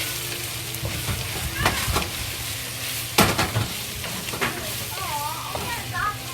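Yellow squash and sliced pork stir-fry in a hot pan with a constant sizzle and sharp spatula scrapes against the metal. A voice briefly speaks near the end.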